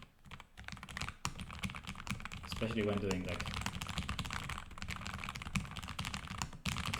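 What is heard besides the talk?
typing on a low-profile Lofree Edge keyboard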